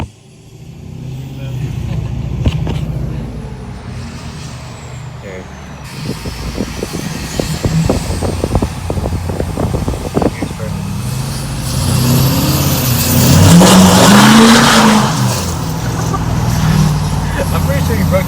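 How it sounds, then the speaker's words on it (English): A 2020 Ford Powerstroke diesel truck with a deleted Tremor setup accelerates hard and breaks its wheels loose, a loud rising engine roar that builds toward the end, with people talking over it. "I'm pretty sure you broke the wheels loose there."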